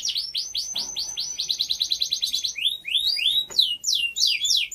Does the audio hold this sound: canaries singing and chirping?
yes